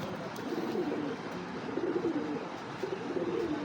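A male racing pigeon coos in low, rolling repeated phrases, close and fairly quiet, with no talk over it.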